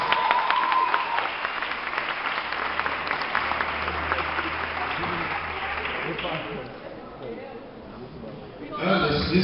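An audience at a fifteenth birthday celebration applauds in sustained, dense clapping that thins out toward the end, mixed with crowd chatter and a speaking voice.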